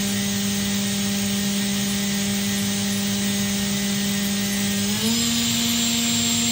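A 2011 Makino F5 CNC machine spindle runs at 12,000 RPM, a steady high-pitched whine over broadband machine hiss that jumps up in pitch near the end as the speed increases.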